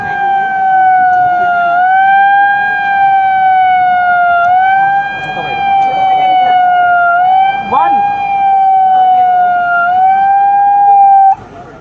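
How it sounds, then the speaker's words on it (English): Warning siren from a KAVACH anti-collision system on a train, sounding as it detects an approaching engine: one loud, steady electronic tone with slight pitch dips that runs continuously before cutting off abruptly near the end. "the siren has gone off, which means the train is coming"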